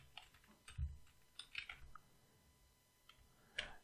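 Typing on a computer keyboard while entering a file path for the Bootstrap CSS in a Node modules folder; a few quiet, scattered key clicks come in short bursts, close and soft, with no talking.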